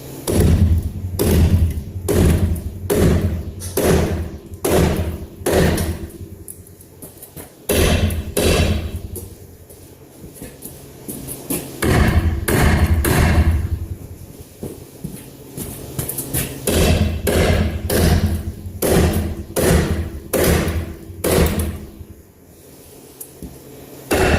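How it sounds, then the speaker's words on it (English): Repeated hammer blows strike the passenger side of a 1971 Chevy pickup, loud metallic thuds landing in rapid bursts with short pauses between groups, close and continuing for over twenty seconds. "Switch hammers."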